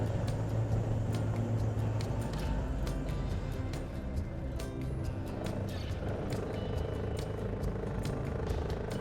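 A Dodge Power Wagon truck driving, its engine a steady low rumble with some clatter, close and continuous the whole time.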